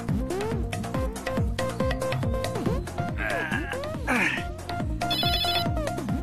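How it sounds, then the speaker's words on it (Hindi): A telephone rings with a repeating electronic tone over loud music with a thumping beat, while people talk. "अरे भैया इनका तो फोन बज रहा है।"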